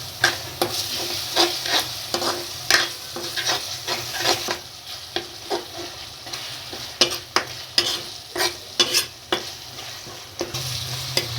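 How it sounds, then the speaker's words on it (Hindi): Chopped tomatoes fry with masala in a pan on medium gas for a beetroot and pea sabzi, a close, continuous sizzle broken by repeated scraping stirs in an uneven rhythm. "इसको मसाले के साथ इसको भी भून लेंगे जब तक टमाटर थोड़े सॉफ्ट नहीं हो जाए।"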